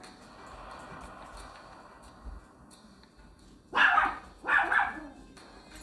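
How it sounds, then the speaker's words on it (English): Several dogs bark in two loud bursts partway through, close by, over a quiet room-tone background. "My dogs are kind of going crazy."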